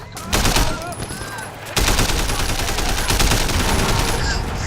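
Gunfire in the video game Sleeping Dogs, rapid bursts of shots close and loud that continue almost without pause through the whole stretch.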